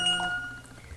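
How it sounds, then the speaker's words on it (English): A phone alert chimes with a few bright, steady electronic tones that fade out quickly, set against a faint low background hum. "now my phone's just going off like a crazy person"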